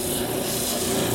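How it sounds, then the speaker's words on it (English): An oscillating spindle sander grinds against a wooden handle with a steady, close, raspy abrasive rubbing under a constant motor drone. "Now we'll just clean them up on my oscillating spindle sander."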